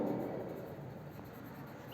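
A pen scratches across paper while answers to a maths exam question are written out, a soft continuous rubbing stroke close by with no talking.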